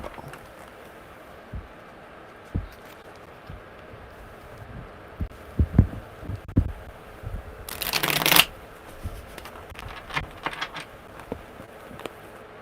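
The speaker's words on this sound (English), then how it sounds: "one more good shuffle" A deck of tarot cards is shuffled by hand, with scattered soft taps and riffles building to one dense, loud riffle burst near the end, then a few light card snaps, no talking.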